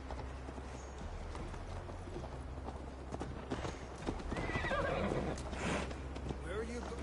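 Horse hooves clip-clop in a steady gallop while riding in Assassin's Creed Valhalla, with a horse neighing partway through and game voices talking over the ride.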